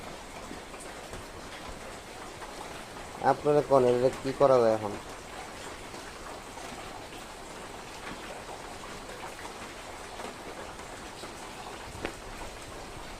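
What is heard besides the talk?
heavy rain at night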